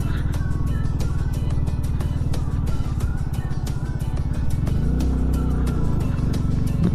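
Motorcycle carrying a pillion rider labours up a steep, rough mountain road between Pangong Lake and Chang La Pass, its engine chugging loud and close in a steady pulsing throb that rises slightly near the end.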